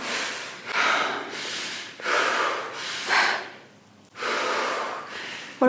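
A person gasps and breathes heavily in repeated ragged bursts, each rising and fading over about a second, close and alone with no talking, in an abandoned mental hospital.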